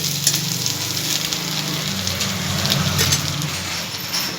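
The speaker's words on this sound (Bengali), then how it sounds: "দিয়ে দিচ্ছি গ্রেট করে রাখা আদা আদাটাকেও অল্প একটু ভেজে নিচ্ছি" Grated ginger fries in oil for a potol and papad curry, a dense, even crackling sizzle like light rain, steady and fairly loud with a low background hum.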